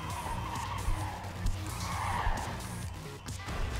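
Trucks skid in the game Clustertruck, with repeated tire screeches and sliding scrapes over engine rumble, moderately loud, and a few thuds between them.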